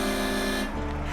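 A truck horn blares loud and steady with a strong tonal drone, holding for most of the moment before cutting off into a lower engine rumble.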